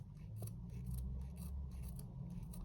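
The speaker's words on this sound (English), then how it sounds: "So get your embroidery scissors and just cut through along the line." Embroidery scissors snip through fabric along a line for a welt pocket, a quiet series of close, crisp cuts repeating irregularly over a low background hum.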